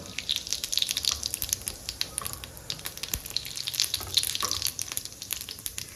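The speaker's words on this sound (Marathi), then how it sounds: "थोडं तेल गरम झालं ना, आपण जिरे टाकून घेऊया." Cumin seeds dropped into hot oil for a Marathi matki bhaji crackle and spatter in a busy run of small pops and hissing bursts, fairly close and moderately loud throughout.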